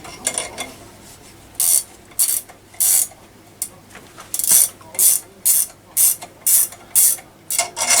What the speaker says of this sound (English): it basically involves doing up all of these nuts kind of evenly